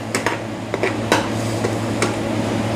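Ingredients stirred and frying in a pan, a few light clinks and scrapes of a utensil over a steady low cooking hum, no talking.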